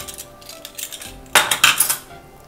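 A pressure cooker lid is opened after the pressure drops while chana masala is being cooked, giving a sudden burst of metallic clanks and scraping that dies away after a quieter lead-in, with no talk.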